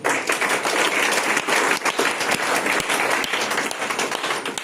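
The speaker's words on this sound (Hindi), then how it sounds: "जबरदस्त तालियां इनके लिए मैंने" An audience at an entrepreneur beginner training session breaks into sustained, dense applause, many hands clapping loudly and evenly throughout.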